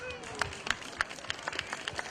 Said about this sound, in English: Give you guys a big round of applause.